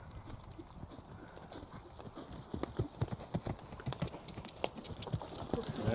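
A racehorse bought at the Arqana and Goffs sale is led alongside a grey lead pony, hooves clip-clopping in a steady, close, repeated rhythm that grows louder toward the end, with no talking.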